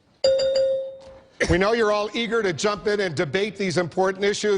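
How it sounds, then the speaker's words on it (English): At a televised Republican presidential debate, a single clear electronic bell tone rings out to mark a candidate's time running out, followed by a moderator speaking. "a bell will sound like this"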